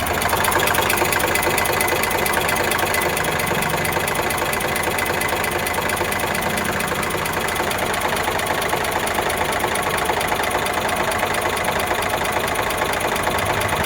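An Eicher 368 tractor's diesel engine, a 2017–18 model, idles close by with a loud, steady rumble and fast rhythmic knocking, unchanged throughout, with no talking.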